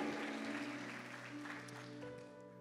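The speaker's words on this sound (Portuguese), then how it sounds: "Você pode aplaudir ao Senhor?" A church congregation claps during a worship service, a moderate wash of applause over sustained musical tones beneath it.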